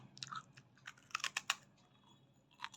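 Toast biscuit dipped in CTC tea being chewed up close, soft crunchy bites in a quick irregular cluster, fairly faint, with no talk.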